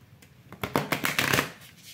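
Tarot cards being shuffled by hand, a quick run of crisp riffling flutters that builds into a dense burst and then trails off, close and fairly soft with no talk.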